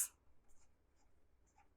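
Brief, faint pen or marker strokes scratch across a surface during a chromosome-structure lesson, a few short scrapes in a near-silent room.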